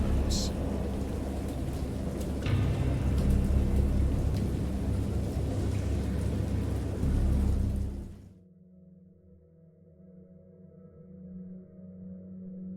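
Heavy rain pours steadily with low rolling thunder rumbling beneath it, loud and continuous, then the storm cuts off abruptly into a near-silent hush with only a faint low hum.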